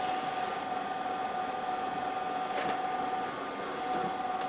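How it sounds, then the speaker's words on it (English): An HP LaserJet 5P laser printer runs a print job, giving a steady mechanical whir with a sustained tone and a few faint clicks, heard close and alone. "apparently it sent out a print job"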